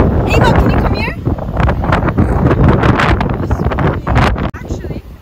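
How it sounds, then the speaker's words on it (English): Strong wind buffets the microphone on a windy hilltop in Saipan, a loud continuous roar with gusty bursts over about five seconds, while people talk over it. "It's really windy."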